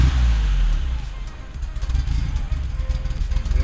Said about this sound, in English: now we're trying to adjust the idle, make sure that it runs properly and adjust the air-fuel ratio